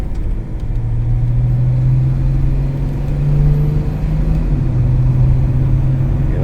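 A VW Crafter van converted to a BMW M57 diesel engine and eight-speed automatic pulls away on a dual carriageway, its engine rumbling loud and steady under road noise with a constant low drone throughout.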